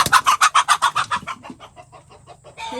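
Brooding hens sitting on a large clutch of eggs at a farm cluck close by in a quick, steady run of about a dozen loud calls that gradually soften and trail off.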